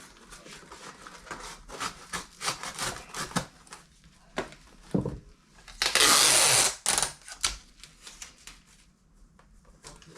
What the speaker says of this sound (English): I'm just going to cut it off. And I'm just using this knife because it works.